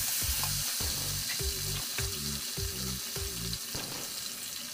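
Chopped tomatoes hit hot oil in a pan of already-fried onions and chilies, giving a steady close sizzle with rhythmic stirring scrapes repeating about every half second, no voices.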